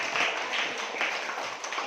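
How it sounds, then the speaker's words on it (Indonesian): Dense, continuous applause from a classroom cheering a student, a steady hiss of many hands clapping close and fairly loud, with no clear voices over it. "Tepuk tangan buat Rehan"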